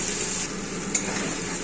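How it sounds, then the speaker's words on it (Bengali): Spice paste of poppy seed, melon seeds and nuts fries in oil for a vegetarian stuffed pointed gourd dish, giving a steady close sizzle. One brief scrape of stirring sounds midway. "এইভাবে ঘুরিয়ে ঘুরিয়ে কষিয়ে নেব মশলাটা।"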